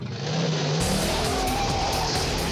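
A Pontiac Trans Am roars loudly past at speed, its engine note dense and sustained with a hint of tire noise, no talk over it.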